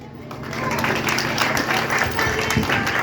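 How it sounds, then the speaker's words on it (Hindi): Sustained applause from an audience after a patriotic freedom-fighters song performance, swelling in within the first half second and holding as a steady, loud wash of many hands clapping. "ताली बजाइए जोरदार ताली से"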